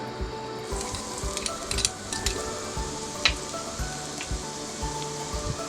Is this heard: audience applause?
no